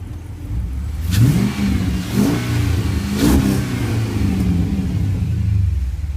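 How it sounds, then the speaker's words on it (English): A Hemi V8 engine swapped into a Dodge Dakota revs up hard three times in quick bursts, each roar easing back to a deep, rumbling idle. "But rev it up, let you guys hear it."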